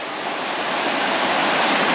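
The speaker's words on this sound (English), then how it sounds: "You can hear the pretty creek." Creek water near Soco Falls rushes steadily in a dense, even broadband roar, close and continuous with no voices.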